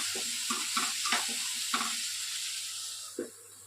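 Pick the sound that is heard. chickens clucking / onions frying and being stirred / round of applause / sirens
onions frying and being stirred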